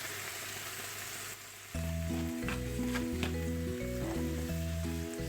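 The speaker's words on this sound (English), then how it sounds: "So let that continue to saute a little bit." Tomatoes with seasonings sautéing in a pan, a steady soft sizzle running throughout, partly covered by loud music with a bass line that comes in after the first couple of seconds.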